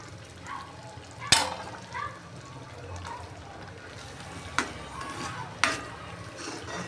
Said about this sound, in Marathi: आणि शेवटी आपल्याला अशी त्यावर तुपाची धार सोडायची आहे